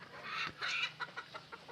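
Chickens being loaded for delivery from a poultry farm in Bangladesh give a few quiet clucks and short squawks in quick succession, faint and close.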